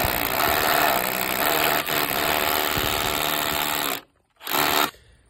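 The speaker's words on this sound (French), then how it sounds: "on va faire les trous avec le perforateur et la mèche béton" A hammer drill with a masonry bit bores holes in a concrete facade to fit a key box. The loud, steady hammering whine runs for about four seconds, stops briefly, then resumes in a short burst. Nobody talks.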